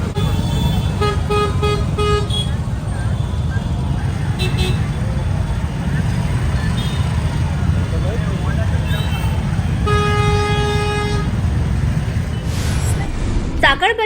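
Steady roadway noise from heavy traffic in a town-centre jam, with several car horns honking at intervals, some short and some held.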